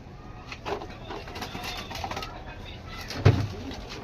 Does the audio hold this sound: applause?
no